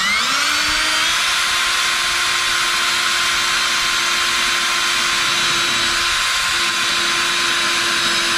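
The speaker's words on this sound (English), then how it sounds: "I'm looking to drill a hole." Power drill boring a hole during a second battery install on a Ranger: the motor spins up quickly, then holds a loud, steady high whine for several seconds, with no voices.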